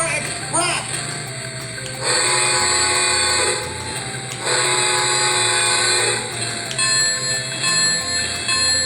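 A Lionel Polar Express remote-control model train runs nearby, with ringing bell and horn-like tones sounding over a low mechanical hum, coming in repeated bursts.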